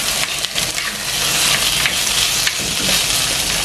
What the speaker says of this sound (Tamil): இப்போ சரியாக 3 நிமிஷம் மீடியம் ஹீட்லேயே இது வதங்கி கொண்டு இருக்குது